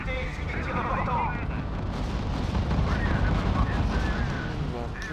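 Artillery fire striking a unit in the real-time strategy game RUSE, a dense continuous barrage of booming blasts and rumbling impacts, loud and sustained for the whole stretch, with in-game voice chatter over it.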